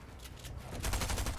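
Rapid gunfire rattles in a video game, faint and brief, a burst of repeated shots lasting just over a second.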